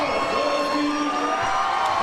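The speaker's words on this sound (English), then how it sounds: "I mean, hark at that crowd. It's electric, isn't it?" A large crowd roars and whoops continuously after Alton scores a point in a 10K game, loud and steady throughout, with voices cutting through.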